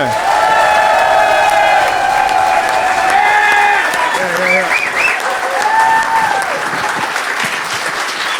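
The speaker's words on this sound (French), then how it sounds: "Bon main d'applaudissements, s'il vous plaît, pour Alex Lévesque et François Bouliane." A comedy roast audience gives sustained, loud applause welcoming two comedians on stage, mixed with cheers and whoops that hold steady the whole time before tapering slightly.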